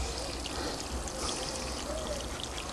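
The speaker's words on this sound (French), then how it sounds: "Ici, ça coule doucement." Water trickling slowly from a drip irrigation line in a vegetable garden, a steady soft, hissy flow with faint dripping, close by and alone.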